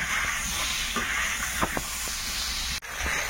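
Eggplant slices frying in hot oil after a koi fish, a steady close hiss and sizzle that runs throughout with a few sharper pops, briefly cutting out near the end.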